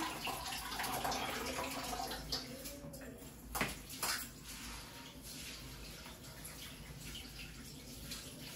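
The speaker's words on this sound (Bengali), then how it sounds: "আমি এই চাল ধোয়া জলটা আমি এই বালতিতে রেখে দেবো" Rice-washing water being poured into a bucket, a steady close splashing and trickling stream that runs the whole time with a few louder splashes.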